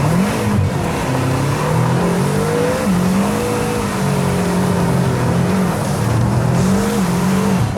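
A BMW M5 with a twin-turbo V8 accelerating hard with its wheels spinning, a loud, continuous engine roar with rising and falling pitch over the rasp of tires losing grip, close and unbroken throughout.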